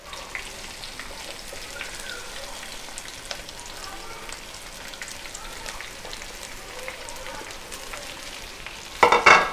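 Onions fry in oil in a pan for bhindi masala, giving a faint, steady, crackling sizzle at a distance with small scattered pops, and a brief louder clatter at the very end.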